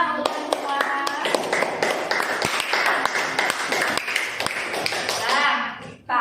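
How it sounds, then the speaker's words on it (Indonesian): A classroom of students claps for one another, a dense patter of many hands with sharp individual claps standing out, steady and close, then thinning out near the end. "Berikan tepuk tangan untuk semua."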